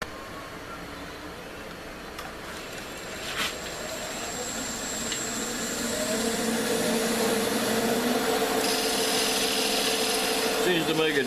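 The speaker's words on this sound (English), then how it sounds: "Time to go to the sharpener, be right back." A wood carving gouge being sharpened on a powered sharpener, big leaf maple work nearby, giving a steady whirring grind with a rising scraping rasp that grows louder and denser over several seconds.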